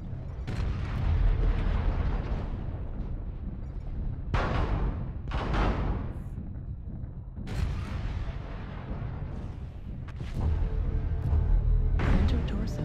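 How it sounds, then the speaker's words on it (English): Artillery strike explosions in the mech combat video game MechWarrior Online: heavy, rumbling booms that roll through in several loud waves, with continuous battle noise between the blasts. "Artillery strike online."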